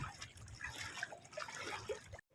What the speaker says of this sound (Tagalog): Tubig po yung nilalakaran natin.